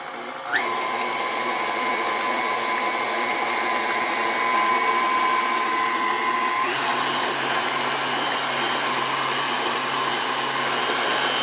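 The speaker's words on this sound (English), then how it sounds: "Then in the electric mixer, mix the wet ingredients." Electric mixer whirring steadily as it mixes wet cake ingredients in a home kitchen, a loud continuous motor hum starting abruptly and shifting pitch slightly partway through, with no talking.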